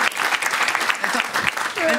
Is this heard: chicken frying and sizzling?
no